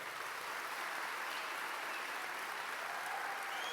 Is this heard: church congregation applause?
yes